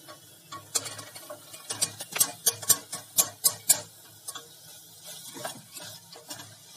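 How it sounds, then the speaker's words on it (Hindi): Split Bengal gram is tipped into a pan of soft, mushy tomatoes cooking over medium heat and stirred, producing a run of sharp, close clicks and scrapes in an uneven rhythm against a quiet background. "ये टमाटर मशी हो गए हैं, तो अब हम इसमें चने की दाल डाल रहे हैं।"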